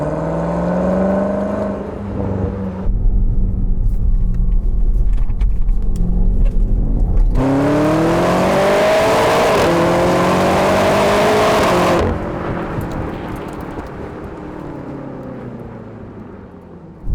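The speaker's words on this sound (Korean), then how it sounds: "주행할 때 들려오는 배기음 소리는 진짜 훌륭하고 만족스럽기는" A BMW X6M Competition's exhaust rumbles loud and close while driving, surging into a strong rev in the middle before easing back to a steady drone, with no voices.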